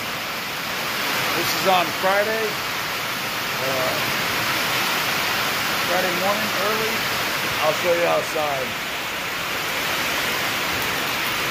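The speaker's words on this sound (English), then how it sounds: "it's pouring down raining" Heavy rain pours outside a workshop, a dense constant hiss filling the background while someone talks over it.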